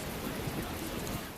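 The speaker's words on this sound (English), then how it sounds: "it is raining" Steady rain in the video game Tales of Berseria, a soft, even hiss of falling drops that holds at a constant level throughout with no voices over it.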